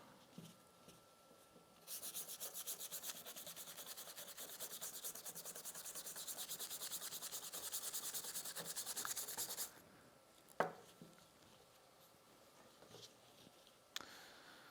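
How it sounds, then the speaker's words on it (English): Scrubbing rust off a metal surface after a rust-removal treatment: a steady, close, abrasive back-and-forth rubbing runs for about eight seconds, then stops, leaving a few sharp knocks and faint handling sounds. "Let's give it a nice little scrub and see if it comes off."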